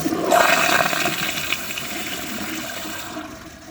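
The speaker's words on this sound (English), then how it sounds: "I know this thing has a pretty weak flush" A ProFlo Round 2016 Gilpin toilet flushes loudly up close, a rushing swirl of water that starts abruptly and slowly tapers toward the end.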